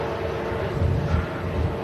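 An Airbus A330 airliner departs with a steady, broad engine roar heard from outside at a moderate distance. The rumble holds level throughout and is mixed with wind buffeting.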